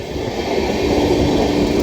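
An Indian Railways MEMU train passes close by at speed, a loud, broad, steady rumble and rush of wheels on track. The roar holds level throughout, with no voices.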